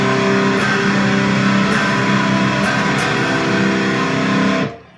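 Heavily distorted electric guitar chord in drop C tuning, a full step below standard with the low string dropped to C, ringing loud and sustained for about four and a half seconds before cutting off abruptly.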